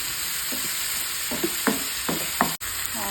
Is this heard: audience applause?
no